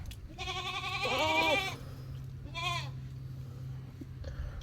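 Two loud, close goat bleats from a young meat goat, a long wavering cry followed by a shorter one, over a steady low hum during a herd health check.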